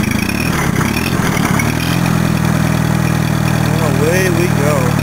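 Allis-Chalmers tractor engine at a steady low rumble that rises as throttle is added and the tractor pulls away in first gear, loud and close throughout, with a whistling tone near the end.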